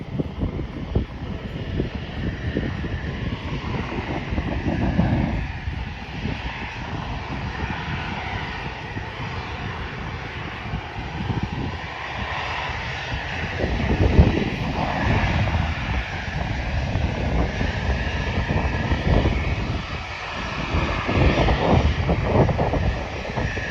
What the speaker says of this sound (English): That's probably the American flight from Dallas coming in.